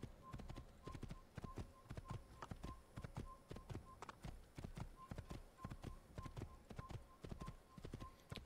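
Horse hooves gallop in a steady, rapid clip-clop rhythm from Assassin's Creed (2007) as the horse is ridden fast, with a faint repeating tone and quiet game ambience beneath.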